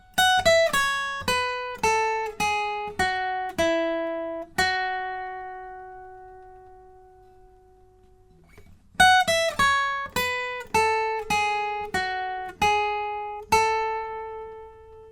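Lead guitar line from a song's solo and outro, clean picked single notes in a steady melodic run, a long held note ringing out and fading, then the phrase repeating, close and alone.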